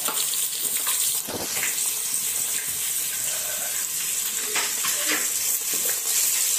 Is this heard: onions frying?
yes